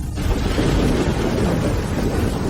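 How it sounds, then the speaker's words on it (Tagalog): Heavy rain pours down steadily with deep, rumbling thunder rolling underneath, a dense continuous roar from start to finish. "Malakas ang ulan."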